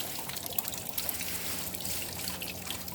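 Water trickles and pours steadily over the riffles of a gold-prospecting sluice box, forming a small waterfall at each one, a continuous close babbling flow with no voices.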